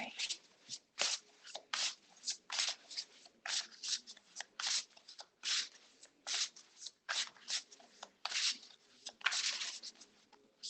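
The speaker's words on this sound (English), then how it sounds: "I'm just going to go ahead and shuffle and get in tune with your energy" Tarot cards are shuffled repeatedly in quick, riffling bursts, a close papery rustle in an irregular rhythm.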